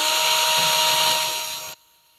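A power drill spins a replacement Capra axle at steady high speed, a loud continuous whirring and rattling drone that holds for about a second and a half before cutting off abruptly, leaving near silence.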